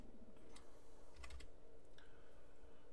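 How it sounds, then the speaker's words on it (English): Fingers tap a computer keyboard in a few quick clusters of keystrokes, fairly close and clear over a faint steady hum. "So let's type in blogging"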